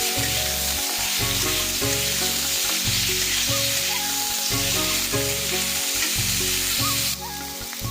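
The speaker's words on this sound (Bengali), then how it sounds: "আলুগুলোকে আমরা খুব ভালোভাবে ভাজা করে নিচ্ছি" Small cut potato pieces frying in mustard oil, a loud constant hiss of sizzling that runs under a repeating musical backing throughout.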